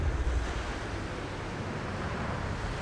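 Strong wind sweeps through the video game Tomb Raider Definitive Edition as a steady, broad roaring rush, much like surf, with slight swells in the gusts and no voices.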